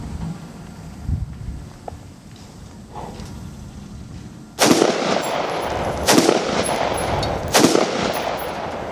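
An IWI X95 Micro rifle fires three sharp, loud shots at a target outdoors, spaced about a second and a half apart, with quieter handling sounds before them.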